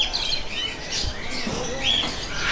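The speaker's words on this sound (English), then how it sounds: "Back past the noisy birds." Birds chirp and squawk in bursts, some high calls standing out over a steady bustle at a Thai fish market that sells tropical fish.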